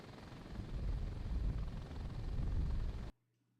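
Helicopter in the video game Thunder Helix flying near a distant tornado, a steady, loud rotor and engine drone that holds evenly for about three seconds and then cuts off abruptly into near silence.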